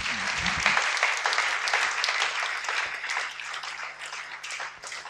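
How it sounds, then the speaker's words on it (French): Steady applause from a large group fills the space, with dense clapping and some cheering throughout. "On peut acclamer vraiment pour le Seigneur."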